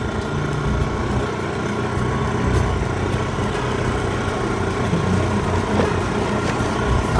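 A car rolling into a beach parking area at Revdanda, a steady engine drone and road rumble that stays loud and even throughout with no talking.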